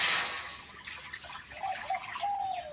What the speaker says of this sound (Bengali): জলফই সিদ্ধ করবার নিকে জল দিয়ে দিব।